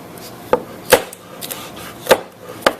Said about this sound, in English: When you're chopping or working with the pepper, you want to clean out the inside as best as you can